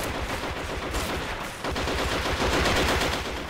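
Dense, continuous gunfire and machine-gun bursts from a Men of War Assault Squad 2 online battle, loud and sustained throughout with no talk over it.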